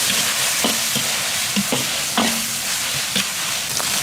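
Pork belly stir-fried in a wok with dark soy sauce gives a steady, loud sizzle, with rhythmic scraping strokes of the spatula about every half second and no talk.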